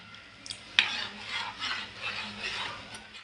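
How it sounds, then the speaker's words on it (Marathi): A spoon scrapes and stirs thickening Malvani-style horse gram pithla in a pot, giving a steady, close, moderately loud swishing with a sharp clink near the start and no talking. "बघा अशी व्यवस्थित मिक्स करून घ्यायची आपल्याला जशी उकळी येईल ना तशी जाड होत जाणार पिठलं"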